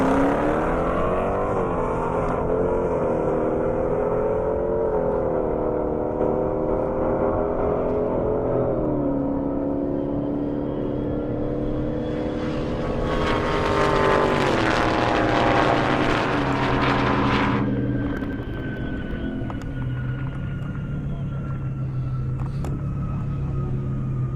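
A Dodge Hellcat and a Ford GT500 drag racing down a half-mile airstrip, loud engines climbing through repeated gear shifts in a long rising roar, then a sudden cutoff and a lingering rumble as the cars pull away.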